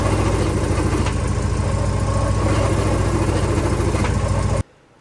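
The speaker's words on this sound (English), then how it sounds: "When the car's idling and you push the clutch in, it is making terrible noises." A Porsche engine idles loudly with the clutch pushed in, a rough, grinding mechanical rattle from the failing clutch running throughout, then cuts off abruptly at the end.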